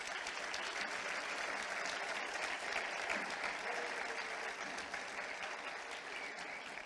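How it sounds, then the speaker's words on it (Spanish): At a Spanish sports gala, a crowd claps steadily for associations and coaches, a dense, even wash of applause continuing for several seconds, fairly distant and uniform. "por eso pido un fuerte aplauso para las asociaciones,"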